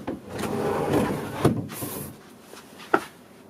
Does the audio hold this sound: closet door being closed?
yes